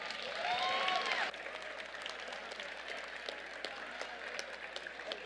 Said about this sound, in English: Let's have a round of applause for all the teams competing here.